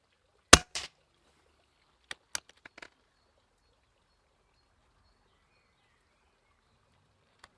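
An Artemis P15 air rifle firing at a paper target; one sharp close shot rings out, then a second quieter report a couple of seconds later, each followed by small clicks, amid near silence.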